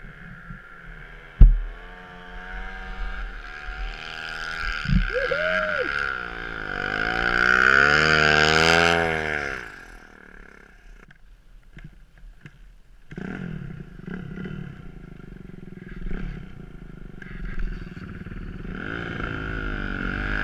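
A turbocharged KX450 Timbersled snow bike engine idles, then revs hard in a rising and falling roar, with a sharp pop near the start and rougher engine noise afterward, loud and close, and no talking.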